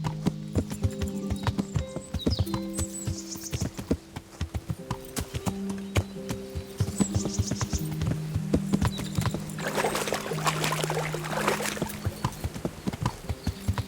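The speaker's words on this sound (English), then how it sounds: "Fast horse." A horse in the video game Kingdom Come: Deliverance gallops at speed, its hooves beating a rapid, loud, continuous clip-clop rhythm with a brief whinny, and no one speaks over it.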